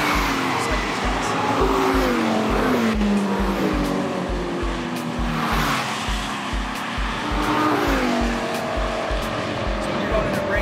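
Race cars run laps on a racetrack with engines droning and shifting pitch while tires squeal through corners, a continuous loud roar with a steady rhythmic pulse underneath and a voice talking over it.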